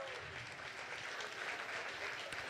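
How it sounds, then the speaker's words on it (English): Steady applause from a gala audience for award recipients, a dense continuous patter of many hands clapping at moderate distance with a faint crowd murmur. "Give a big round of applause to the first half of the leaders of the year."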